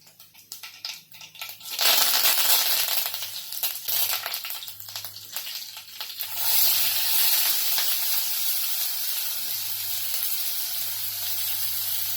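Cumin seeds and asafoetida hit hot oil with mustard seeds already in it, a sudden loud hissing sizzle that surges, settles, then swells again into a steady close spatter.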